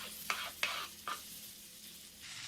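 Tomatoes being stirred into a frying masala for an egg masala gravy, a faint background sizzle broken by three sharp scrapes of the spoon against the pan.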